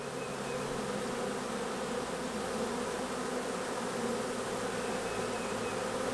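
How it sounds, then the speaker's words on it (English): Steady, dense buzzing of a honeybee swarm, a continuous droning hum with no pauses, fairly faint and even throughout. "Look at those bees go."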